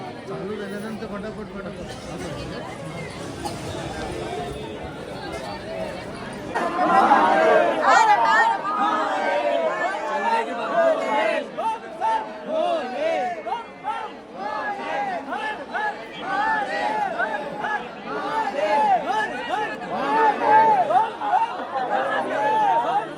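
Dense crowd chatter fills a temple darshan queue for the Bhasma Aarti, many voices overlapping close by and swelling louder partway through, with scattered laughter and calls rising out of the steady murmur.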